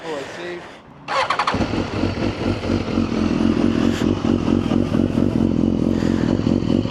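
A 1000cc hyperbike motorcycle engine cranks briefly, fires up loudly and settles into a rough, throbbing idle and revving close by as it gets ready to ride off, with voices around it.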